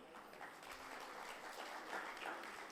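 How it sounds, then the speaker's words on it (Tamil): A faint, thin patter of clapping comes from an audience at a Tamil pattimandram comedy debate, scattered hands sounding distant and subdued throughout. "ஏன் இவ்வளோதான் நீங்கள் கைதட்டுவீங்களா?"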